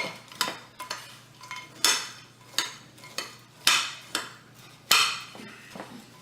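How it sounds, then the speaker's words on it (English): A spoon mixes a cookie crumb crust for a no-bake chocolate peanut butter pie, about a dozen sharp scraping clinks against the bowl in an uneven rhythm, close and clear with no talk. "take your spoon and kind of mix it in really good"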